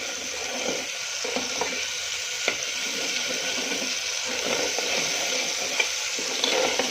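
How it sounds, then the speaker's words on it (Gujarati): Spice masala for restaurant-style rajma frying in oil as it is stirred: a constant close hiss and crackle with occasional light clicks from the spoon, and no one speaking. "બરાબર આપણે આને તેલમાં ફ્રાય થવા દઈશું. થોડો આપણા મસાલા ચડવાની સુગંધ આવે ત્યાં સુધી આપણે થોડું ચલાવી દઈશું."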